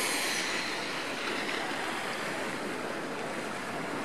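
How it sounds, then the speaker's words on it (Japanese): Waves splash against a rocky shore on a Kyoto coast, a loud, steady roar of broken surf and spray that stays continuous and close, with no talking. "バッシャンバッシャンすごいですよ、波しぶきがね。"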